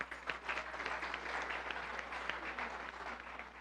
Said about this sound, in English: give yourselves a round of applause for coming today